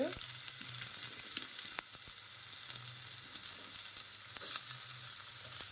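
Onions are frying in hot oil with tempering seeds for a methi and tomato curry, giving a steady, dense sizzle throughout with a few brief clicks, close up and with no voices.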